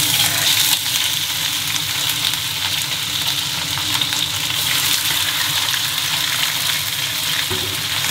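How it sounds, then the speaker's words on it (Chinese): Whole crucian carp laid into very hot oil with slices of fresh ginger, giving a loud, steady, close sizzle and crackle that runs unbroken for the whole stretch, with no voices. "油烧热之后下鱼"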